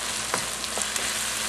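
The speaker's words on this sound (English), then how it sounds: "I'm going to cook these onions for about another minute or two" Softened, browned onions frying in a pan for chicken jalfrezi, giving a close, continuous hiss with a few faint stirring ticks, with no talking.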